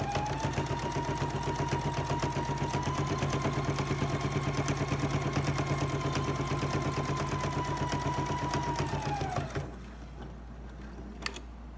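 A sewing machine runs steadily for about nine seconds while stitching a decorative stitch, with a fast even mechanical whir close by. It then stops and a faint click follows.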